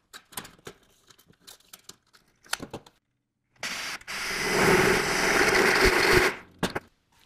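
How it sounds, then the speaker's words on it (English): A power drill bores a hole to run pre-wired MC metal flex cable for homemade LED shop lights, heard as a loud, steady whine lasting about three seconds after a few scattered handling knocks. "So I'm gonna drill a hole right here"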